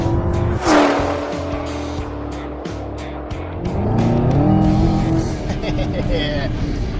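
Dodge Challenger SRT Redeye Widebody muscle car accelerating hard, its engine note climbing and roaring loudly with a brief tire squeal near the start, close and sustained over about seven seconds.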